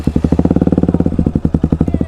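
Motorcycle engine started before a race, giving a loud, close, rapid chugging pulse at a steady rhythm for about two seconds, with no talking.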